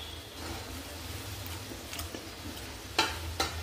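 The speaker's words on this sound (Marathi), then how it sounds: "मीडियम गॅसवर आपल्याला हे समोसे तळून घ्यायचे" Samosas deep-frying in hot oil over medium gas: a soft, steady bubbling sizzle, fairly faint, with a few light clicks and taps of a utensil toward the end.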